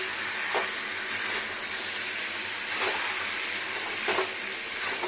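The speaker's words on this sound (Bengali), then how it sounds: "এবার ভালো করে কষাতে থাকবো" Chicken curry with cumin powder and sugar is sautéed and stirred in a pan, giving a steady sizzle with a few soft scraping strokes of the spoon spaced across it and no talking.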